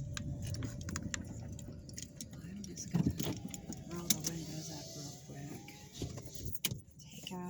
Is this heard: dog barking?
no